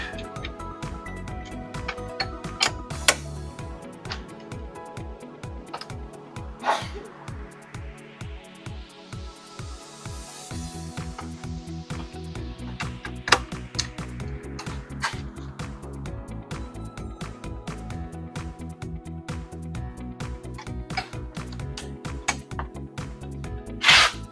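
A power tool loosens bolts on the filler panel of a Polaris RZR XP 1000 side-by-side, giving a rapid ratcheting chatter in bursts mixed with clicks, metal clanks and a brief rising whine, heard up close.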